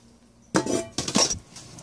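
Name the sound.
dry dishes being put away into the cabinet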